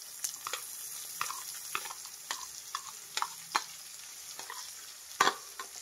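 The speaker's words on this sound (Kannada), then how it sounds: "ಒಂದು 2 ನಿಮಿಷ ಚೆನ್ನಾಗಿ ಫ್ರೈ ಮಾಡಿದ್ದೀನಿ ಕ್ಯಾಪ್ಸಿಕಮ್ನ" Chopped capsicum and onion sizzle steadily in a frying pan while a spoon scrapes and stirs them in frequent irregular strokes, close up and quiet, with no talking.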